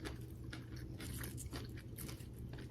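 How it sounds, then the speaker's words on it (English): Someone chews a mouthful of salad with avocado, almonds and raisins, close crunchy bites and wet chewing in a quick, steady rhythm, with no talk. "It's a little weird to eat on camera."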